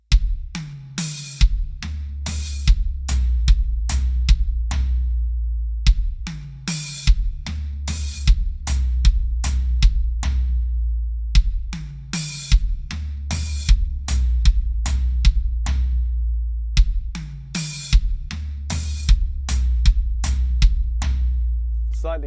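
Drum kit playing a repeating triplet groove that combines floor tom, hi-hat, bass drum and a right-hand pattern, with steady close strokes and regular accented hits throughout.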